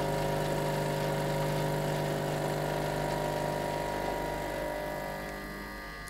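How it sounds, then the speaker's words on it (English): A Blue Pod espresso coffee machine's pump hums steadily during a backwash cycle, a close, constant droning tone that fades slightly near the end. "Again you'll hear the pump go quiet."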